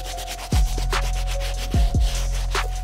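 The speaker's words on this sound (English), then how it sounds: "we're gonna continue cleaning up the shoe using the soft bristle brush" A soft bristle brush scrubs an Air Jordan 13 Mike Bibby Player Exclusive sneaker with close, repeated rubbing strokes and a few sharper scratchy passes, alone without voices.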